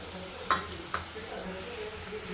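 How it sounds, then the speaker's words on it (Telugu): Peanuts fry with ivy gourd in a pan, a soft continuous sizzle with a couple of light scraping stir taps near the start, quiet and close. "పీనట్స్ వేసి బాగా కలుపుదాం."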